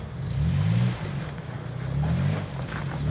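Jeep Wrangler Rubicon engine on a rocky off-road trail, given small dabs of throttle, with low revs rising and falling in two gentle surges over a steady idle, close by.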